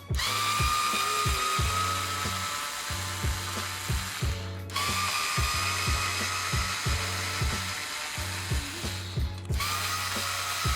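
A power tool whirs in repeated bursts removing screws from a Traxxas X-Maxx RC truck, its motor pitch climbing then cutting off, with rhythmic mechanical clicking throughout.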